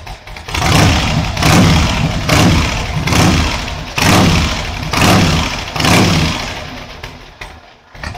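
A custom Harley-Davidson Ironhead 1000 motorcycle engine is revved hard in loud, close surges about once a second, a deep rumbling roar that rises and falls before settling at the end.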